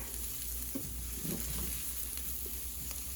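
Rice grains sizzle and crackle in a hot pan as they toast for risotto, a steady soft frying hiss with occasional stirring scrapes, close and fairly quiet.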